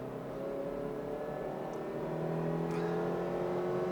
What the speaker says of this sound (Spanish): al ponerse el motor a un régimen constante y no variar el sonido del motor